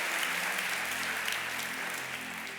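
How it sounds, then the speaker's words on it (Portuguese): A church congregation applauds during a sermon, a soft, steady wash of many hands clapping from a distance that fades gently toward the end. "Alguém pode dar uma salva de palmas ao Senhor Jesus por causa disso?"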